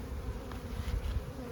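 Honey bees buzzing around an opened hive, a soft, close, continuous hum with fluttering swells as insects move about.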